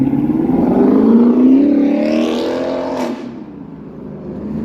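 A car engine revs loudly up close, its pitch climbing and then easing back into a steady idle, with no voices.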